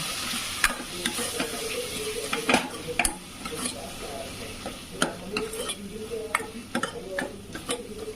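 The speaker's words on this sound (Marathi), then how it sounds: "आणि हा गरम मसाला छान ह्याला मिक्स करून घ्यायचं" A spoon stirs garam masala into chicken curry in a cooker, repeated sharp metallic clinks and scrapes against the pot over a soft frying sizzle, close up, with occasional faint talk.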